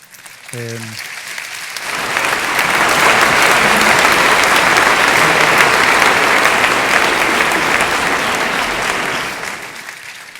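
At a gastronomy conference stage demonstration of chocolate bonbons, a short voiced sound opens before a large audience bursts into loud, sustained applause that swells, holds for several seconds, then tapers off.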